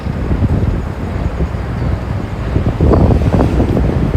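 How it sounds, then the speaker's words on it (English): Strong wind buffets the microphone in low, rumbling gusts that swell louder toward the end, with no speech heard, outdoors at a 7 train station in Manhattan, New York City, in January. "It's a bit windy here in this place."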